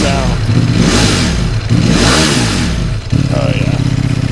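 A Ducati Panigale V4S revs hard in first gear, loud and close, its engine note rising and falling in two big sweeps before a brief dip and then a steady, raspy higher drone.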